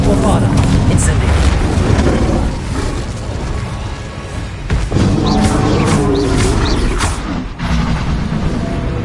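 Bombarda and Confringo spells explode in the Hogwarts Legacy video game, with several booming blasts and crashes amid busy combat noise while a voice talks over them.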